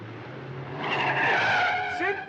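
A 1962 comedy film car pulls away in pursuit, tires skidding into a rising engine whine that swells and holds for a couple of seconds.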